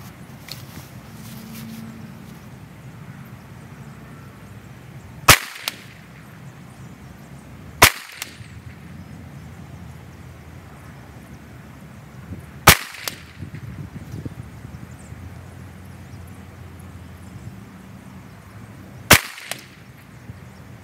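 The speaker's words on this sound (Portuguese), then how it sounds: "disparar 5 tiros com a mão esquerda na bola com o número 8" A pistol is fired at a target during a Dot Torture shooting drill, shooting left-handed, giving four loud isolated sharp shots several seconds apart over faint background noise and shuffling.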